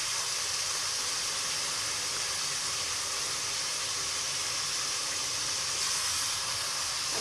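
Ginger garlic paste dropped into onion masala frying for achar gosht gives a steady, loud sizzle with airy hiss that holds evenly throughout, with no voices over it.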